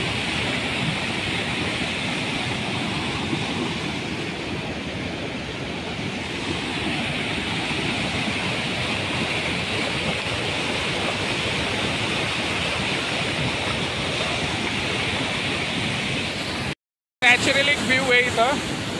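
A waterfall at Saptakund near the Ajanta Caves roars in a steady, dense rush that stays continuous and fairly loud, with a brief break near the end.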